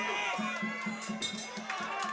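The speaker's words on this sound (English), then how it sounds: "Crowd erupted with that score." A crowd at a combat sports fight roars loudly after a scoring moment, a broad sustained wash of cheering and shouting that fills the whole moment with steady intensity.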